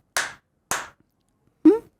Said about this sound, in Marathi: किंवा आता आपण टाळ्या वाजवतो